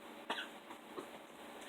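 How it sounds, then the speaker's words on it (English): A single short quiet cough from a woman, one sharp burst followed by a faint second exhale, in a quiet indoor room. "Excuse me, cough."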